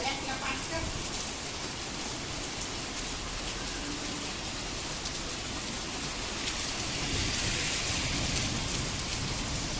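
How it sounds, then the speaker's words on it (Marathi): Heavy rain pours steadily, a dense, constant hiss of drops hitting surfaces that stays loud and even the whole time. "खूप जोराचा पाऊस सुरू झालाय।"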